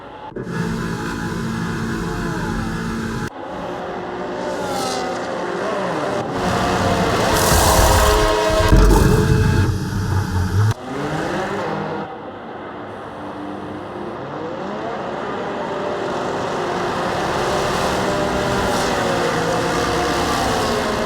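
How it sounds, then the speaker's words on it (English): An F1 car in the F1 25 racing game at Monza slows into the pit lane for a stop to fit hard tyres, engine droning and revving loudly throughout with a sharp surge in the middle before settling. "now we're going into the pits to put on the hard tire"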